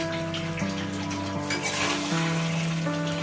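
Spice paste is stirred into chicken frying in a pan for Golbari-style chicken kasha, a steady sizzle with wet stirring and scraping under a constant tonal hum.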